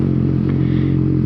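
A 2012 Honda CBR600F motorcycle fitted with an aftermarket exhaust runs with a steady, loud, close engine drone that holds an even level throughout, with no clear rise in revs.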